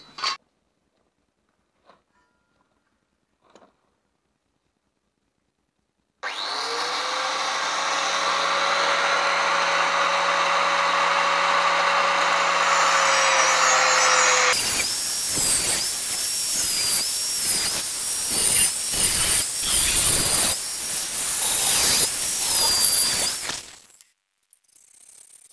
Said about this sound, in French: je vais changer le disque de ma meuleuse, mettre ça dans l'étau et je vais faire une gouttière de chaque côté.